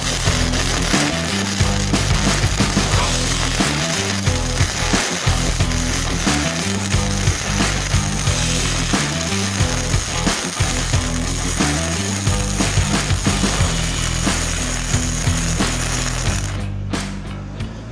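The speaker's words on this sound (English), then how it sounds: "I'm welding 1/4-inch flat bar, and I got really good penetration." YesWelder MIG-205DS-B MIG welder laying a T-joint bead on 1/4-inch flat bar, a steady loud crackling buzz with dense sputtering pops, continuous for the whole stretch before cutting off at the end.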